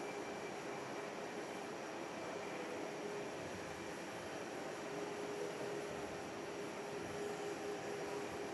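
A Malaysia Airlines airliner taxiing at Perth airport, heard at a distance as a steady, faint jet engine drone with a constant whine and no break.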